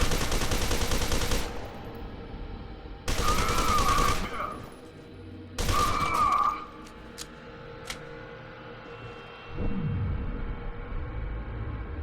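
Grenade blasts and gunfire from the shooter game FEAR 2, loud broadband bursts in several separate volleys with quieter rumbling stretches between, game voices faint underneath.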